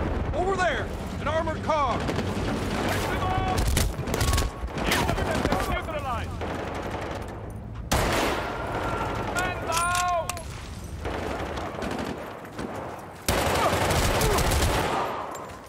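Assault rifle fire rattles in repeated bursts during a Battlefield Bad Company match, mixed with heavy explosions and battlefield noise, while voices talk throughout.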